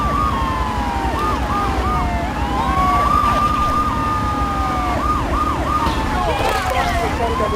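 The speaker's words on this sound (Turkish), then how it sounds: "Bakın bakın bakın arkamda iki tane polis arabası." Two police car sirens wail in the video game GTA III, a steady rising-and-falling yelp that repeats loudly across the whole stretch, with engine rumble beneath and a brief jumble of siren tones near the end.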